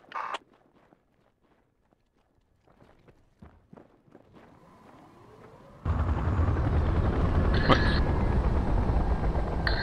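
A Black Hawk helicopter in the military game Project Reality starts up: after quiet footsteps and a rising whine, a loud steady rotor and engine roar suddenly fills the scene and continues.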